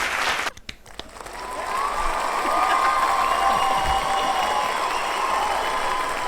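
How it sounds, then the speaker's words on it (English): A played cheering sound effect: a crowd applauding and cheering swells up after a short clatter and carries on steadily and loudly to the end. "I just realised that cheering goes on for quite a while if I hadn't have stopped it."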